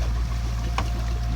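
Sea swell rolls around a sailing boat crossing between Greek islands in the Dodecanese on a calm, windless day, a loud, steady low rush of water with a brief splash near the middle.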